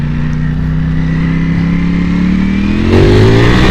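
Ducati Panigale V4S motorcycle in race mode, engine note rising steadily as it accelerates, then a sharp jump in loudness as the throttle opens harder near the end, loud and close with no voices.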